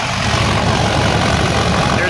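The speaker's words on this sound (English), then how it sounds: "We are just at idle right now." An LLY Duramax diesel truck engine idling with a coolant pressure fault, a loud, steady, even rumble close by with no talking heard.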